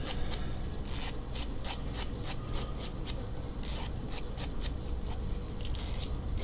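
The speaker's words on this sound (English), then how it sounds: "A little sander here and there until you got 2 matching sides." Quick rasping strokes from a small sander working the sides of leaf springs to make a matching pair, a steady, close scratchy rhythm with repeated bright bursts and no talk.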